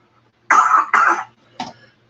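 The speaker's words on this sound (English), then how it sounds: "So that cough right there, I can go ahead and get it." Coughing during a podcast recording session: two strong, close coughs in quick succession, then a shorter third cough a moment later, heard alone in a quiet room.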